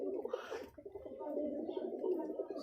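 Giribaz pigeons in a Rajshahi loft give soft, continuous low cooing that rolls on steadily, with a brief brighter flutter near the start and a faint murmur of background noise.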